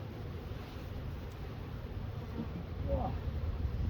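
Honey bees buzz faintly around an opened hive as honey supers come off, a low, steady hum that swells slightly near the end.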